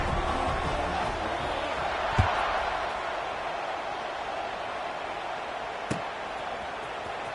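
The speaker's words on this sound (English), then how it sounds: "this crowd is buzzing after that last score" Stadium crowd at a college football game between the Cajuns and Commodores, buzzing steadily after a touchdown, a broad continuous roar held at a distance with two brief sharp thuds standing out.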